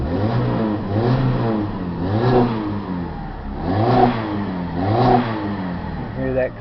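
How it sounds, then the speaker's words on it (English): Chrysler PT Cruiser fitted with a custom exhaust revs repeatedly, its engine note rising and falling in several loud, close surges over a steady rumble. "you hear that custom exhaust."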